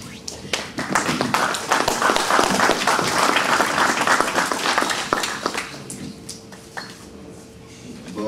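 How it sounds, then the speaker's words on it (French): Audience applause at a 2016 Normandie-Niemen commemorative ceremony: dense, fairly close clapping fills the first five seconds, then thins into scattered claps while a faint voice or tone carries underneath. "Vos applaudissements, s'il vous plaît."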